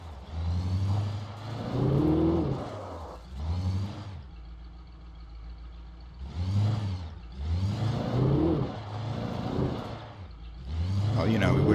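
A car drives in the game Alan Wake, its engine revving and whirring in surges that swell and fade. Someone talks over much of it.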